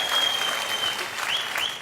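Clapping from a studio audience on a television show, a brief continuous patter of many hands with a faint high tone running through it.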